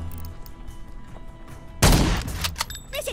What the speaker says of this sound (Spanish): Luego voy a empezar a pegar tiros ahí.